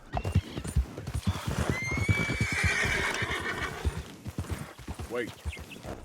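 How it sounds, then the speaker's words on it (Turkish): A horse in Red Dead Redemption 2 gallops up with quick clip-clop hoofbeats and gives a loud whinny partway through. "bir ıslık çalıyoruz ve hop atımız koşarak bize geliyor"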